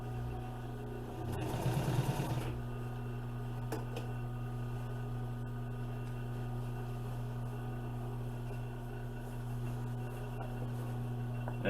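A sewing machine top-stitches upholstery covers for a 1955 Chevy, giving a quiet, steady motor hum with a brief louder burst of stitching near the start, then running on softly alone.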